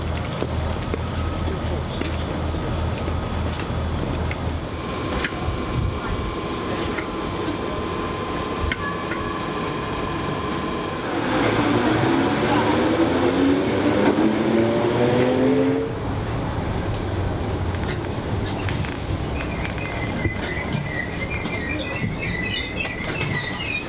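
A Merseyrail electric train rolls toward Ormskirk, heard from inside as a loud steady rumble and hum of wheels on track, with a rising whine midway and a faint squeal near the end.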